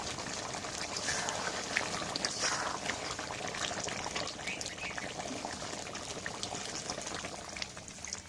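Water is poured into a pan of braised country duck meat cooking on a clay stove in a rural setting, giving a quiet, steady trickling and splashing over low background noise.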